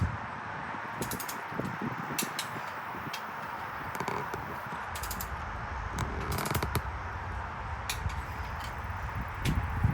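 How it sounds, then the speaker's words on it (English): A ratchet clicks in short bursts while bolts and nuts are snugged down on the crankshaft of a 4.6 engine during a rebuild, with sharp intermittent ticks over a dull workshop background. "Just snug up a few of the bolt heads, a few of the nuts."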